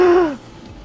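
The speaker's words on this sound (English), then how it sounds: "You guys probably heard me gasp because it was a huge gasp." A single loud, sharp gasp with a falling pitch, lasting under half a second, from a gamer reacting to the racing physics of a retro game during a late-night stream, followed by quiet room noise.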